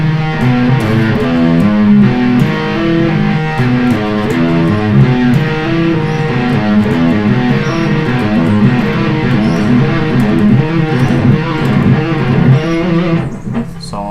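Electric guitar sweep picking, with strokes across strings plus hammer-ons and pull-offs, in a steady stream of rapid arpeggiated notes that runs loud and continuous for about fourteen seconds.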